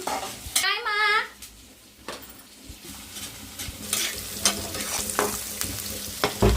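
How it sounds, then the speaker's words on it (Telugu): Onion and ginger paste sizzles in a pan while a spoon stirs and scrapes, with repeated metallic clinks and scrapes over the frying; a brief voice is heard near the start. "ఉల్లిపాయ అల్లం పేస్ట్ అయితే బాగా ఫ్రై అయినాయి కదండి"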